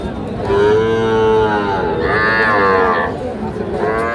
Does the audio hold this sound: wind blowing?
no